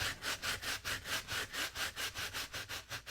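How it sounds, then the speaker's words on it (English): Wood sanded by hand with 80 grit sandpaper: quick, even back-and-forth rasping strokes, about five per second, close and fairly quiet, with no talking. "Now I'm sanding this with 80."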